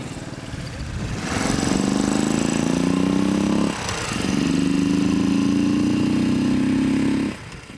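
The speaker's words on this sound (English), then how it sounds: "500X is the same 499cc engine as seen on the standard motorcycle" A Royal Enfield Thunderbird 500X's 499cc single-cylinder engine revs up twice, droning loudly for a couple of seconds each time with a brief dip between, then drops back.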